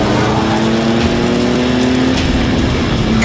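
A high-output 3.5-liter EcoBoost engine in a 2017 Ford F-150 Raptor runs with a steady, loud drone and a sustained low hum, holding an even level throughout with no pauses.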